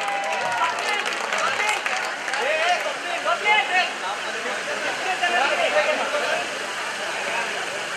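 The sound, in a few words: loud applause for the teacher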